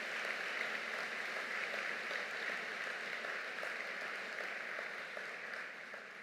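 Audience applause for graduates fills a spring convocation ceremony at a business school: a dense, sustained wash of clapping from many hands, steady for several seconds and easing slightly at the end, with no voices.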